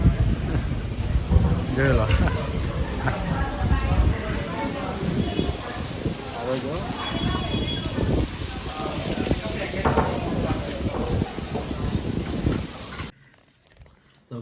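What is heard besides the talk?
thunderstorm with rain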